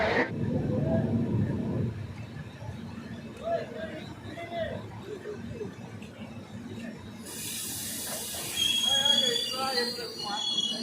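A Kulik Express passenger train runs on rails toward Radhikapur, heard from inside a vistadome coach as a constant rumble with intermittent wheel squeal, and a brighter hiss toward the end, while someone talks over it.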